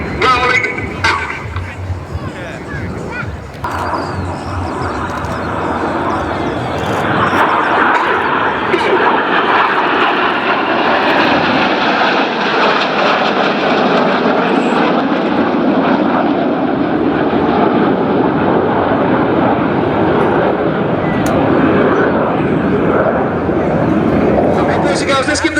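Loud, continuous engine roar of display aircraft at an air show, swelling and sustained as the planes roll out of a manoeuvre, with faint crowd babble beneath.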